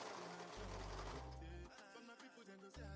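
Serger sewing machine stitching slipper fabric and bedding, running in steady bursts of motor whir with brief pauses between runs, loud and close with no talk.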